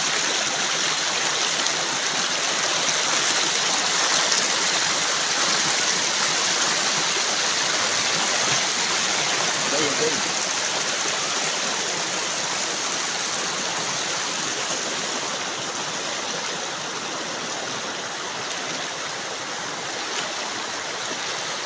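A river rushes in a steady, loud, broadband wash throughout a river crossing, with no pauses and no talking.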